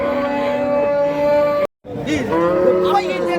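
A cow moos loudly and close by in a long, drawn-out call, briefly cut off, then a second lowing moo follows, at a cattle market.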